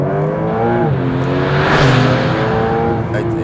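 A loud Porsche 911 Turbo S 3.6-litre engine revs hard and climbs in pitch as it accelerates, a rising roar that swells and then eases near the end.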